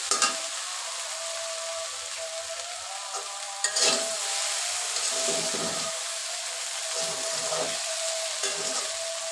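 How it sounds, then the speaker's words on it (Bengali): Okra frying in a pan with onion and green chili, stirred now and then, gives a steady hiss of sizzling with occasional scraping clatters of the spatula against the pan. "ভাজিটা অলরেডি আমি শুরু করে দিয়েছি"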